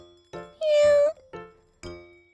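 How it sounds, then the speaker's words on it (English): A cat meowing in a dramatized scene, one long, clear, high meow close by, with short voiced sounds before and after it. "Did you just hear a cat meowing?"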